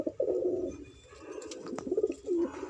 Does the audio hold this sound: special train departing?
no